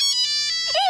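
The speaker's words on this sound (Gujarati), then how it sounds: "ભૂંગળું વાયગું ભૂંગળું વાયગું. આને ભૂંગળું ન કહેવાય, આને મોબાઈલ કહેવાય." A mobile phone ringtone chirps during a Gujarati stage comedy play, with a loud, clear melodic electronic tone lasting about a second.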